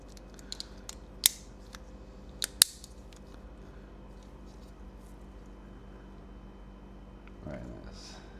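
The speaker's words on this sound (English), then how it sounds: "They sound nice and clicky anyway." Several sharp, isolated clicks from Xbox Series controller buttons being pressed during a repair of faulty controllers, spaced irregularly in the first few seconds over a quiet room hum, with a brief rustle near the end.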